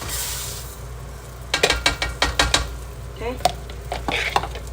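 Rice being stirred and browned with spices in a pan, with a quick run of spoon scrapes and clinks against the pan over a faint sizzle, and a voice speaking briefly.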